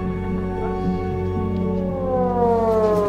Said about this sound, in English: I had to move this meeting down here to this shelter because air sirens went off.